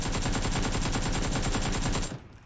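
An AK-47 rifle in PUBG fires one long, rapid automatic burst of evenly spaced, loud shots, then stops abruptly and the sound trails off, with no voices over it.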